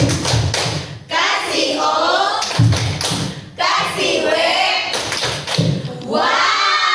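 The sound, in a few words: group doing a rhythmic clapping routine, 'tepuk uang'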